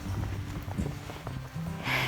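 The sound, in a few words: horses at feeding time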